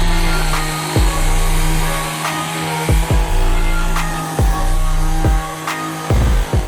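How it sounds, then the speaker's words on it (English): A power sander works over sun-bleached wooden tops with a steady, loud whirring drone, broken by a series of short bursts as the tool shifts or restarts about once a second. "just sand the tops and hit them with a little bit of stain"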